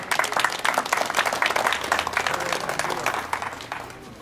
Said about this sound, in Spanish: Vamos a regalarle un fuerte aplauso